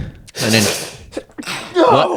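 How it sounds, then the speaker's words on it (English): A single loud, close human sneeze, a sharp gasping intake followed by an explosive burst, with a brief voiced sound right after. "Well, I mean, I hate to sneeze."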